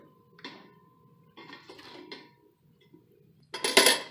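Kitchen scraps, including cucumber pieces and boiled eggshells, drop into a stainless steel compost pail with a few light metallic clinks and rattles, ending in a louder clattering burst, with quiet pauses in between.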